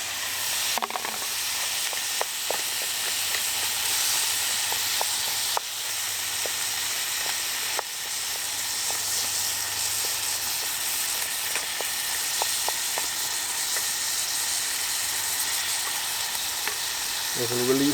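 Tomatoes fry in a pan on a Trangia 27 camping stove outdoors, giving a steady close sizzle with occasional stirring clicks throughout.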